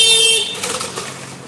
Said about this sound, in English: The guy honking horns.